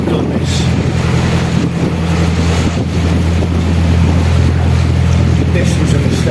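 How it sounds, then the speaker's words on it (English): Strong gusty wind buffets the microphone on a narrowboat trip along a canal in cold, wet weather, a steady loud roar with a low engine hum beneath it. "it's colder, it's windy, and it's definitely wetter"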